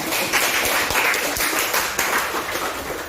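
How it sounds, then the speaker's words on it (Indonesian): Audience applause for a presenting student group in a classroom, a steady wash of many hands clapping that runs loud and close for the whole stretch with no talk over it. "Kasih tepuk tangan untuk kelompok 1"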